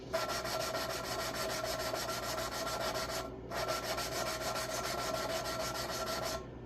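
Engine valves on a Farmall 450 tractor being lapped by hand, a steady close gritty rubbing and grinding in two long continuous strokes with a brief pause between, faint high metallic ring running through it.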